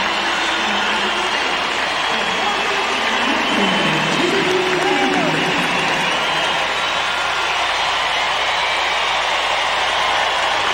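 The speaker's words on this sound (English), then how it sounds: "Already the smile acknowledging the cheers" An Olympic arena crowd at the 2002 Salt Lake City Winter Games cheers a figure skater before his men's short program, a dense, sustained roar and applause while a commentator talks over it.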